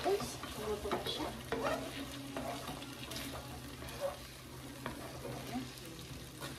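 Spicy chicken with chili sizzles steadily in a pan while a utensil stirs and scrapes. The frying hiss stays constant under intermittent clinks of the spoon against the pan.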